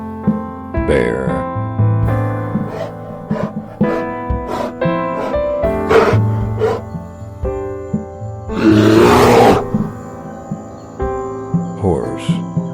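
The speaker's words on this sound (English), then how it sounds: "bear," A bear roars among animal calls, the rough growling bursts standing out over a busy, musical background with other brief cries.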